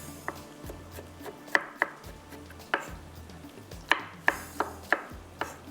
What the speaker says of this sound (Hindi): तो इसको वैसे ही हम चॉप कर लेते हैं टमाटो को